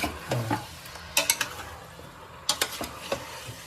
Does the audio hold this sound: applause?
no